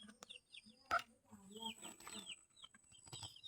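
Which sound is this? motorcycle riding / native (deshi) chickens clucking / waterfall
native (deshi) chickens clucking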